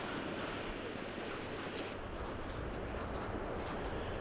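Ocean waves washing onto a Scottish beach, a constant broad roar of surf mixed with wind buffeting the microphone, steady and fairly loud with no one talking.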